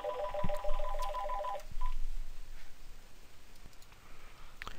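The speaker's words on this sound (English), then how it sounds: "Sorry about that pesky phone call in the middle of my recording" A telephone rings in short bursts of warbling electronic tone, followed by a few clicks and then quiet room noise.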